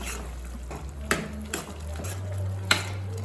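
Green chilies and spices, jeera powder, garam masala and dhania powder, are mixed in a pan for cauliflower curry: a few sharp spoon knocks over a low steady hum, close and moderately quiet.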